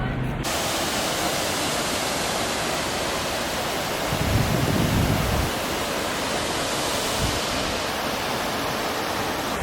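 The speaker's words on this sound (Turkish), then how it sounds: "Evet arkamızda şelale. Aynen şelale akıyor." A waterfall near Zaandam, outside Amsterdam, pours out a steady, dense rush of water that sounds close and fills the whole stretch without pause, with no voices over it.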